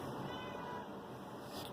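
A cat meows faintly in a home woodworking shop, a single drawn-out cry heard from a distance against steady background hiss, with no voices.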